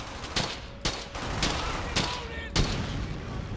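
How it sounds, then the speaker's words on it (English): Sustained gunfire from the World War II shooter game Brothers in Arms: Hell's Highway, with repeated sharp bursts over a dense, continuous battle din and faint voices. "Look at all those fucking machine guns, though."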